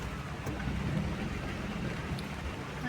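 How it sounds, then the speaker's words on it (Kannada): Heavy rain during a trip near Sakleshpur, a dense, steady roar of downpour with low rumbling underneath, fairly faint and continuous with no voices. "ಇಲ್ಲಿ ಎಷ್ಟು ಮಳೆ."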